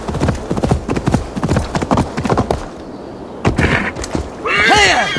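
In Assassin's Creed Valhalla, a horse gallops with rapid, rhythmic hoofbeats up close, pauses briefly, then lets out a loud whinny near the end.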